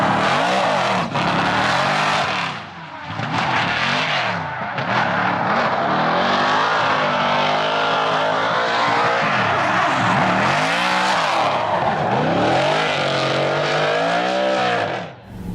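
A BMW E36 drift car roars at full throttle, its engine rising and falling through repeated revs with screeching tire squeal, loud and close, sustained for the whole run with no talking.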